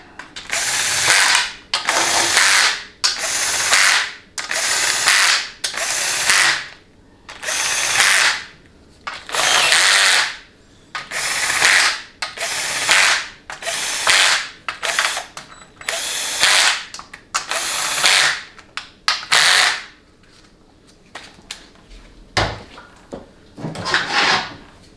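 Low-power impact wrench driving bolts on a 4L80E transmission during a rebuild, about eighteen short, loud buzzing bursts spaced roughly a second apart with brief pauses, close and alone with no talk.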